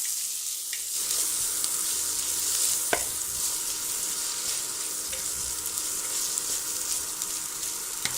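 Pan-fried asparagus with Parmesan and sesame sizzling steadily in a pan while being stirred, a continuous close crackle with a few sharp clicks of the utensil.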